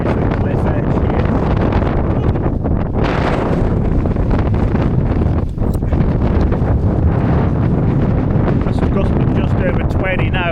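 Strong wind on a cliff edge buffeting the microphone on very hard ground, a loud continuous roar with gusting surges throughout and a light tent rustle near the end.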